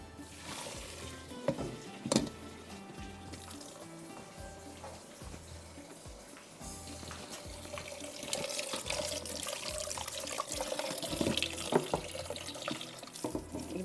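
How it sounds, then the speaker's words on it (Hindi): Boiled golden macaroni being drained, a steady running-water rush and splashing like a tap filling a sink, growing louder and busier in the second half with occasional clatter. "यहाँ पर मैक्रोनी को ड्रेन आउट करते हैं"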